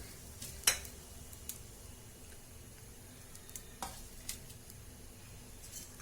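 Peanuts dry-roasting in a pan, a faint low sizzle with scattered sharp ticks and a few scraping stirs, quiet and close with no talk.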